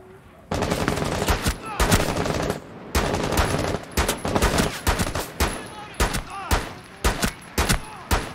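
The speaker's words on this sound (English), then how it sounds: "Trying to shoot him through the light fitting." Loud bursts of automatic gunfire in Rainbow Six Siege, fired at an enemy in rapid sustained volleys broken by short pauses, close and dominant, with no voices heard.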